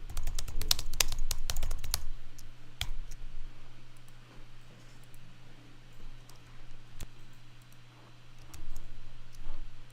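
Computer keyboard typing a folder name, a quick burst of close clicking keystrokes in the first two seconds, then scattered single key taps over a low steady hum.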